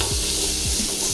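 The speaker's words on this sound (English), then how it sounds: "So what I like to do is I like to give it a good stir while it's frying" Onions sizzling and frying in a cast-iron potjie pot, with a couple of scraping stirs of a spoon against the pot walls over a loud continuous hiss.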